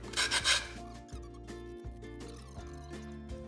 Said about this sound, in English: go through all these pieces and sand them so we do have a good fit for our pieces